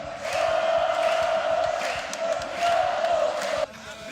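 A basketball arena crowd of fans shouts together in a sustained, loud roar during the last quarter of a Caxias game, the chanting rising and falling before cutting off abruptly.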